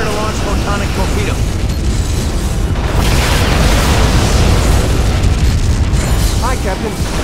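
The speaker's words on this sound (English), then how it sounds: "Prepare to launch photonic torpedo." Star Trek: Legacy space battle with Captain Archer's NX Enterprise launching a photonic torpedo: a loud, sustained booming roar of weapons fire and explosions, dense and continuous, with voices speaking over it.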